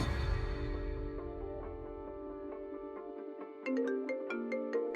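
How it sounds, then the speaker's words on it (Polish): A phone ringtone plays a repeating melodic chime pattern, clear and close, with a brighter rhythmic section starting partway through. "Dzwoni telefon."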